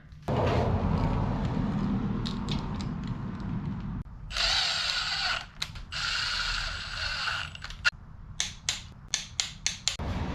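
A hand ratchet turns over a 6.2 LS V8 during final assembly, giving a steady mechanical whir, then bursts of ratcheting, then a run of sharp separate clicks, close by.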